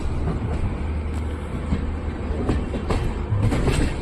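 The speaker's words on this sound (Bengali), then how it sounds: "আমাদের ট্রেন রাজস্থানের ধনপুর স্টেশন পার করে এবার প্রবেশ করেছে মথুরা জংশন স্টেশনের দিকে" The Chambal Express passenger train rolls steadily along the tracks near Mathura Junction, with a continuous low rumble and periodic clacking of wheels over rail joints, close and fairly loud.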